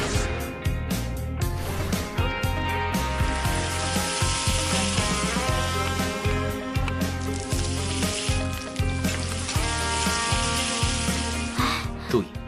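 Food is stir-fried with a spatula in an inn kitchen, a continuous crackling sizzle with quick scraping strokes over the full length, mixed under a bed of music.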